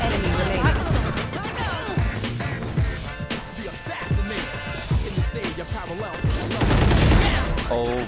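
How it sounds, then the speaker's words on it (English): Rapid automatic Stinger fire in Valorant rattles out in dense, loud bursts mixed with other weapon and game effects, while an excited voice talks over the shooting. "Oh my god, the stinger is the best gun in the game."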